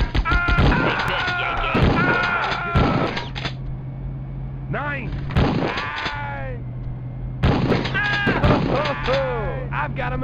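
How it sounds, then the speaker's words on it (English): Gunfire from the Die Hard Trilogy tower mode on the Sony PlayStation, with sharp blasts in several clustered bursts mixed among harmonic game effects and voices, separated by brief gaps. "I've got a machine gun."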